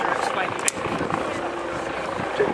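A Westland Wasp helicopter taxis along the runway at the Duxford air show, its steady broadband engine and rotor roar continuous throughout, with a commentator's voice over the top.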